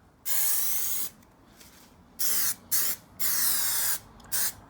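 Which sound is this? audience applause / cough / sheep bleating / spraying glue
spraying glue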